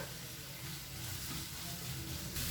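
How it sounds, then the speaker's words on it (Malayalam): Curry leaves and onion sizzling and crackling in hot oil in a pan for a Kerala green peas curry, a steady, dense hiss that continues throughout with no talking. "ഇതിലേക്ക് കുറച്ച് കറിവേപ്പില കൂടി ഇട്ട് കൊടുക്കാം"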